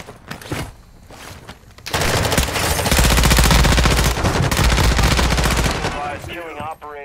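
Sustained machine gun fire rips through a Call of Duty match on Ashika Island, a loud continuous burst of rapid shots after brief sporadic shots, with a voice speaking at the end.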